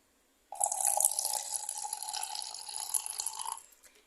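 About 50 ml of water is poured into a dishwash base mixture that already has acid slurry added. It makes a steady, splashy trickle for roughly three seconds, close by, then tapers off.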